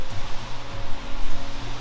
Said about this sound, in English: I think we arrived to biggest part of this waterfall.